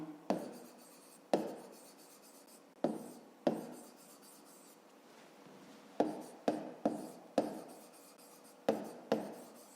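Pen writing on paper during a fifth-grade maths exercise about kilograms of tomatoes: close, scratchy strokes with sharp taps as the pen touches down, in short irregular bursts over a quiet room.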